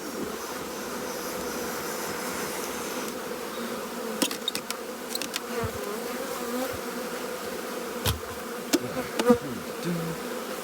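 Honeybees swarm and buzz loudly and continuously while a hive is installed outdoors, a dense steady drone with occasional sharp knocks and handling noises.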